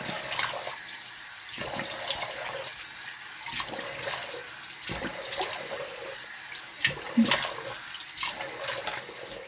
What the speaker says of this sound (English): And then I will rinse my face.